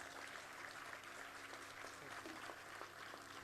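Applause from the audience at the inauguration ceremony of a national scientists' round table conference: a steady, faint wash of clapping that fills the whole moment, with some voices mixed in.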